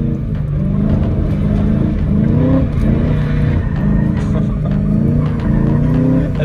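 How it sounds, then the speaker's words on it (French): A straight-piped BMW M3 E92 engine revving hard while drifting on a slippery road, a loud, sustained, raspy roar with wavering pitch, close by and unbroken throughout. "Un petit coup de gaz."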